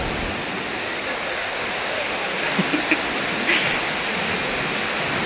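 Hogenakkal waterfall on the Kaveri river pours in a steady, dense roar of rushing water, loud and continuous, with faint brief knocks and splashes near the middle.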